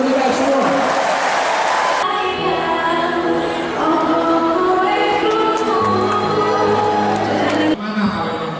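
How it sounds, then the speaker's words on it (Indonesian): Applause from an audience at a ceremony where honorary teachers receive their appointment letters from a governor, a broad steady wash of clapping and crowd noise with music-like tones and voices running through it. "Tepuk tangan untuk kita semua."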